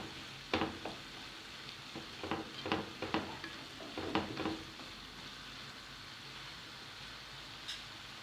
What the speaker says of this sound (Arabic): نخلطهم كتير منيح